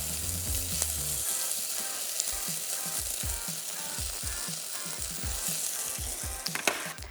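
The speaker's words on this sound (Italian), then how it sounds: "Non appena la cipolla sarà rosolata aggiungiamo la nostra patata. Facciamola rosolare un paio di minuti." Onion and potato browning in a pan: a steady close sizzle runs throughout, punctuated by a rhythmic series of low knocks and scrapes from stirring, with a louder clatter near the end.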